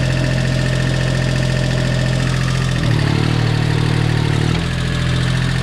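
A tractor engine holds a steady throttle around 1500 rpm on wet ground, a loud, close, continuous diesel drone with rhythmic knocking, its pitch and load shifting briefly midway before settling back.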